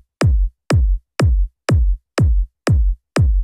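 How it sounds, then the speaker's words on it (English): Eight punchy electronic trance kick drum hits, layered low and high kicks, on an even beat, each a sharp click dropping into a deep booming thump, with silence between. "We have a kick drum."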